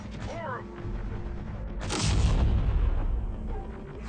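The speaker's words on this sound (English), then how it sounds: "Bit of artillery there for you." Artillery in the war game Terminator: Dark Fate – Defiance lands as a heavy, booming explosion with a long rumbling roll. It follows a short whistle and battlefield noise, with a brief voice early on.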